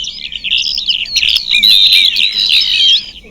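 A mobile phone app plays synthesized bird chirps, a dense flurry of bright, rapid tweets and warbles, loud and close, with no talking.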